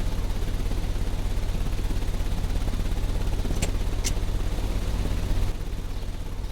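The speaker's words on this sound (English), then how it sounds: "The engine has started." Vehicle engine idling in a Sherlock video game, a steady low droning hum that runs loud and unbroken, with two brief sharp clicks midway and the low drone dropping slightly near the end.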